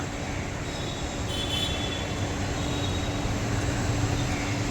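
A Mumbai local train passes near Mahalaxmi racecourse on a rain-wet day. A sustained rumbling roar swells slightly toward the end, with faint metallic squealing from the wheels and no voices.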